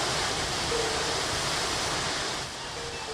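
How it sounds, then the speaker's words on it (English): A big waterfall spilling over into a deep river pool in Iceland, a steady dense roar of falling water close by that continues unbroken throughout, with no voices. "The main falls spill over into a big deep pool that can be fished from both banks."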